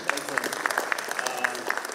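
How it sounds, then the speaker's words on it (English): Audience applause at a silver jubilee alumni meet, a dense steady burst of many hands clapping at close range for the full two seconds. "So I think the fact that we made it after 25 years deserves a big round of applause for all"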